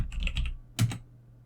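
Quick bursts of keystrokes on a computer keyboard, a rapid cluster of clicks followed by a single heavier key press, close and crisp with no talking.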